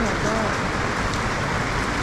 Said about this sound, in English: All right, guys, take a look at that rain.